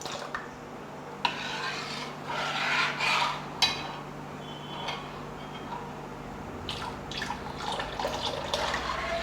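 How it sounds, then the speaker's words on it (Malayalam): Coconut milk poured slowly into a hot bronze pot for payasam, a gentle liquid trickle and dripping with soft rubbing and clinks, continuous but faint, no talking. "ഈ തേങ്ങാപ്പാൽ നമുക്ക് ഒഴിച്ചു കൊടുക്കുക"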